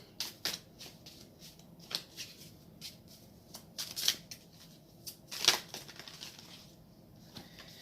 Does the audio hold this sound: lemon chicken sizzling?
no